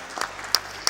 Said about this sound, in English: So give a round of applause to the allies